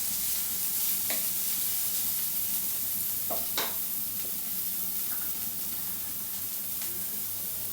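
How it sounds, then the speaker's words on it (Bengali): Chopped onion, garlic and chillies frying in a pan for sweet potato paratha filling, a steady close sizzle throughout with a few brief scraping stirs, no talking. "পেঁয়াজটাকে আমি ভালো করে লাল করে ভেজে নেব।"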